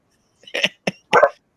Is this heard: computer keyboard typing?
no